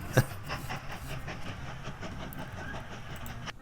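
A train rolls along in the video game Mashinky with a faint, steady rumble and light rhythmic clatter, opening with a brief sharp whistle-like blip.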